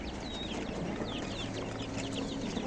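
Native chicken chicks about a month old cheep and cluck continuously at close range, with a low steady hum underneath.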